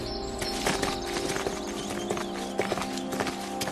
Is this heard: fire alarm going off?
no